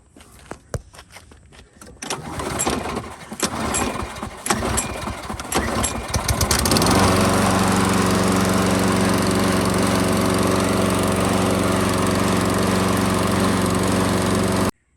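Toro Recycler lawn mower engine cranking through several sputtering pulls and clatters, then catching and settling into a loud, steady running drone that lasts to the end before cutting out abruptly.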